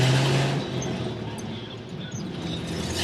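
A 1978 Chevy C10 pickup truck cruising in high gear, its steady engine and road rumble continuous and fairly close throughout, with no talking.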